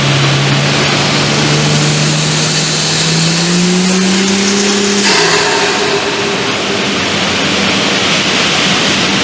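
A VL Turbo engine revs hard on a dynamometer, a loud rising mechanical whine climbing in pitch over steady roaring broadband noise, then dropping off abruptly about halfway through as the revs fall back.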